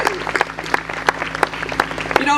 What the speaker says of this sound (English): we're just gonna clap for you, Gary, because the others probably wouldn't.